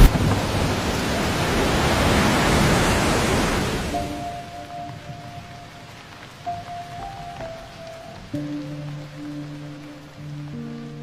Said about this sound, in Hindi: देखो तेज बारिश हो रही है